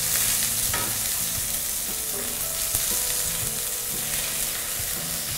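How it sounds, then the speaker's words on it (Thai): Curry paste being stir-fried over low heat in a pan for a spicy fried catfish dish, with a steady close sizzle and repeated scraping strokes of a spatula throughout. "การผัดพริกแกงเนี่ยก็จะทำให้ตัวพริกแกงเนี่ยหอมมากขึ้นนะคะ ยีให้เขาแตกตัวนะคะ"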